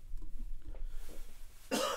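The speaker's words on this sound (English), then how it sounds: "I got a cough." A man's single rough cough breaks out suddenly near the mic after a quiet stretch.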